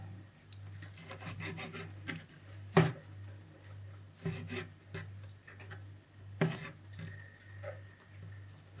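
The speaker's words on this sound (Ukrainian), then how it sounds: "І починаємо нарізати наші гриби." A knife chops mushrooms against a cutting board in irregular, soft cuts, with a few sharper knocks standing out over a faint low hum.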